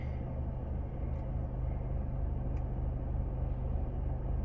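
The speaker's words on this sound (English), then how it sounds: "Why am I filming myself being stuck in traffic?" Car idling in stop-and-go traffic on a narrow neighborhood road, a steady low engine rumble from inside the vehicle with faint, brief clicks and no speech.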